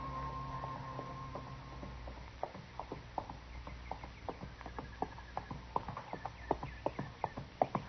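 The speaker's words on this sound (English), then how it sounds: "I heard a horse coming along the trail" Horse hooves clop along a trail outdoors, faint at first and growing more distinct as an uneven run of hoofbeats comes nearer, with no talking.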